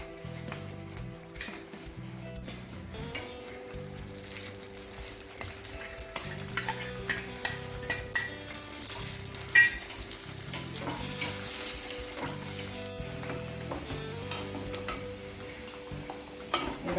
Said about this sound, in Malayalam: തേങ്ങാക്കൊത്ത് നെയ്യിലൊന്ന് വറുത്തെടുക്കാം